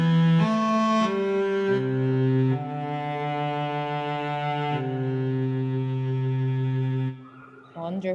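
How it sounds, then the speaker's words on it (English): A cello plays a slow, sustained melody of bowed notes, rich and resonant, moving through several long held pitches before a brief pause and a final note. "Yes, this is the sound of the cello."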